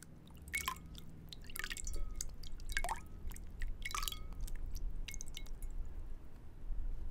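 Water drips and soft wet squishes come from a natural exfoliating scrub being mixed with a little water, a few close, gentle droplets and squelches spaced over a quiet, hushed background.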